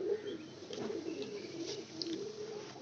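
A pigeon coos softly and repeatedly, close by, its low rolling calls over faint background noise and a few higher chirps.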